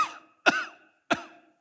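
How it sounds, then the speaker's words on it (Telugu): Three short, close coughs come in quick succession, each a sharp voiced burst followed by brief silence, with no other sound around them. "దగ్గు,"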